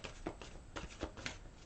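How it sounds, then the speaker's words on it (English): A deck of tarot cards is shuffled by hand during a reading, a quiet run of soft, rapid riffles and flicks close up, with no talk over them. "One more shuffle."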